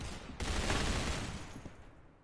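Sustained rapid minigun fire in a competitive shooter game tournament match, a dense roaring burst that starts abruptly and holds for under two seconds before tapering off, with no talk.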